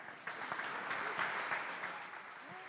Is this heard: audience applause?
yes